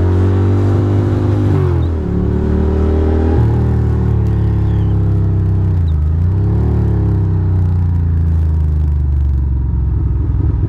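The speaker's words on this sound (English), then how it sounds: "Man, for a turbo, that car sure is slow." A turbocharged car rolls slowly past on a Brooklyn street in Fort Greene, its deep engine rumble loud and close, with shifting pitch and a steady low drone throughout.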